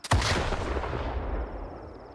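In STALKER 2, an RPG-7U grenade launcher fires a single sharp, loud blast that rolls out into a long, booming decay over two seconds, with no talk.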